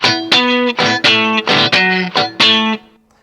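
Muted electric guitar strummed in a steady Texas blues rhythm, downstrokes across all strings, eight crisp choppy chords with a gritty, overdriven tone, then a brief fading ring.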